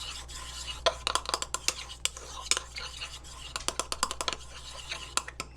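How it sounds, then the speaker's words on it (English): A utensil stirs and scrapes lotion ingredients in a container, with steady close clicks and scratches against the sides over a low background hum. "And for after each addition, you're going to do a thorough mix."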